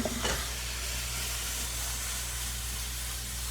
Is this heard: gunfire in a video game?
no